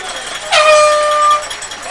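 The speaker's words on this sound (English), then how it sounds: "If you just heard that foghorn, that was Sean Kahn's mother down there." A spectator at a high school football game blows a foghorn-like air horn in one loud, steady blast of just under a second, ringing out over the crowd.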